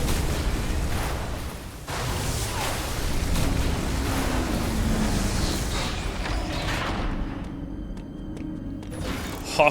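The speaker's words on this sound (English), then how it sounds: "we get to see the shuttle go through that wall of water again" A shuttle bursts through a wall of water in the video game Metroid Dread, producing a steady loud roaring rush of water and machinery that holds throughout, with a booming surge near the end.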